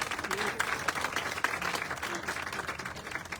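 An audience gives Beth, a woman modelling a floral top, a steady round of applause that patters continuously at moderate volume, with a voice talking over it.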